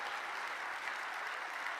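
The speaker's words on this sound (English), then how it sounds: "Give yourselves a round of applause." A conference audience claps in a steady, dense wash of applause that stays even throughout, with no voice on top.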